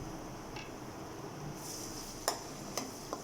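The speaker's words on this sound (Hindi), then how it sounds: "लहसुन को मैंने चंद सेकंड के लिए फ्राई कर लिया है" Garlic fries in oil in a pan with a faint, steady sizzle, broken by a few short clicks of a spoon or utensil against the pan near the end.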